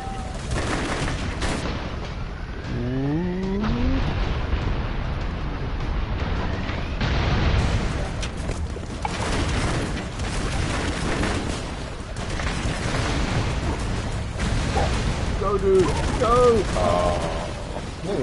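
Rapid bursts of video game gunfire mixed with booming explosions as barrels blow up, dense and continuous throughout, with excited players talking over the action.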